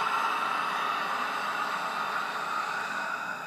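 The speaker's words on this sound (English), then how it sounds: "breathing all of the air out through your throat." A long yoga exhale pushed out through the throat with the mouth open, a close, even, airy rush of breath sustained for over three seconds, with no voice over it.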